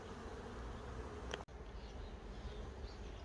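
Honeybees hum at a hive split nucleus, a soft, steady drone of many wings with one brief sharp tick partway through, faint and continuous with no voices.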